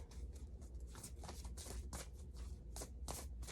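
Oracle cards shuffled in steady riffling bursts, a close papery flutter repeating several times with no voices.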